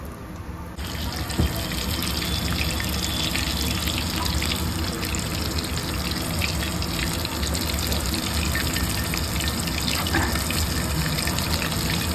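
Cheese chicken balls sizzling and frying in hot oil, a steady loud crackling hiss that fills the whole stretch after a brief quieter start, with no talking.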